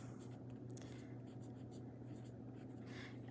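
A medium-nib fountain pen writes on paper with a faint, close scratching and several quick strokes over a low, steady room hum.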